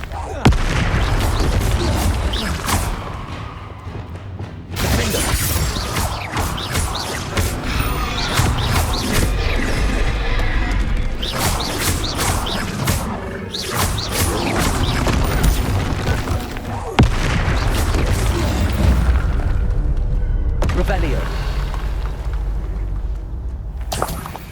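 Confringo fire spells blasting in a Hogwarts Legacy battle, a dense run of loud booms and crashes layered under continuous game music and effects.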